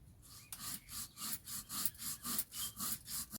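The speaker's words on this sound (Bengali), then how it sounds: "পোস্তটাকে খুব ভালো মতো করে আমি বেটে নিয়েছি" Poppy seeds are ground into a paste on a grinding stone with steady, rhythmic rubbing strokes, about a dozen back-and-forth passes at close range, with no talk.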